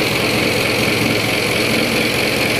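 A boat engine runs without pause, a steady, loud drone and constant mechanical rumble with a hissing, airy top and no voices.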